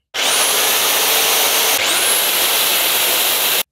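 Power drill fitted with a mixing paddle churning tile adhesive, a loud steady motor whine with grinding, sloshing texture running continuously and alone, its pitch briefly dipping and rising again midway.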